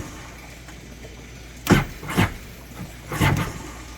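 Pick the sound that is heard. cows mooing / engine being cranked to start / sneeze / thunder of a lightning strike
engine being cranked to start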